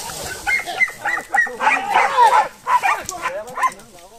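A dog barks and yips repeatedly in short bursts at a cattle-roundup gathering, mixed with people shouting and talking nearby.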